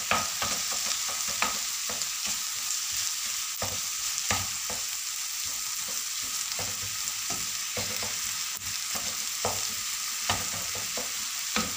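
Kofta frying in a pan gives a steady, close sizzle that runs the whole time, with scattered clinks and scrapes of stirring on top and no voices.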